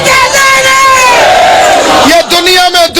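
A large crowd roars and chants slogans in unison at a religious gathering, loud and sustained, with voices surging together before breaking into shorter bursts near the end.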